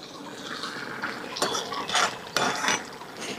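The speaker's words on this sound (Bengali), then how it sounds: "এখন ঢাকনা উঠায় দিব।" A lid is lifted off a cooking pot of jackfruit curry with fish roe, giving two loud metallic clanks about a second apart amid faint kitchen clatter.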